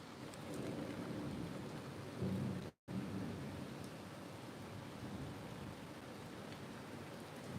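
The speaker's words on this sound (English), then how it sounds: "Can you guys hear the thunder?" Steady rain with a low rumble of thunder rolling underneath, continuous and fairly distant, with a brief dropout partway through.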